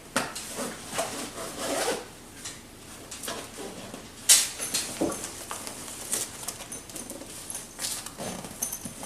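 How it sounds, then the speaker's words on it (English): A Tortuga V2 travel backpack being zipped closed, with a series of short rasping zipper pulls and rustling fabric, close and moderately loud, including one sharp burst partway through. "Zip it up"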